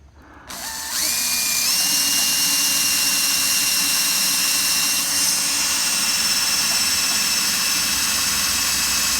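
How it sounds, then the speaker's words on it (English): A power drill bores a hole while mounting sewer hose storage, its motor whining up sharply after a brief start and then running steadily and loudly, close by, with no talk. "So I drill the hole straight."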